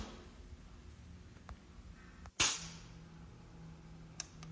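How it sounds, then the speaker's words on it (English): A pneumatic cylinder on a Festo UP 30 universal profiler fires with one sudden loud hiss-snap, followed by a few faint clicks against a low, steady machine hum. "You can see all the various pneumatics working here."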